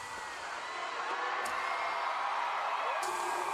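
A large concert crowd at KCon LA 2023 cheers and whoops in a continuous roar during a live K-pop performance.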